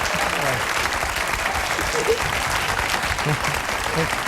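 A studio audience at a 2003 television talk show breaks into steady, loud applause lasting the whole stretch, with a few voices faintly mixed into the clapping.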